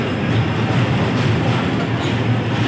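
An express train, the KSR Bengaluru to Mysore Gol Gumbaz service, rumbles steadily and loudly at close range with a dense, continuous roar and no talk over it.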